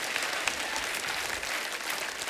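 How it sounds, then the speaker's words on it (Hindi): A burst of enthusiastic applause from a comedy show studio audience, dense clapping held steady throughout, fairly close and without speech. "एक बार जोरदार तालियां"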